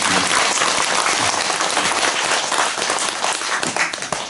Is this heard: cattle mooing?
no